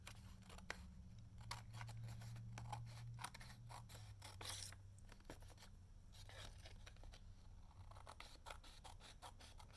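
Scissors snip around a journal page in a quick run of close, crisp cuts with light paper rustling, faint under a low background hum.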